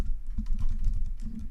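Fingers type on a computer keyboard in a rapid, irregular run of close, soft key clicks and thumps, with no talk.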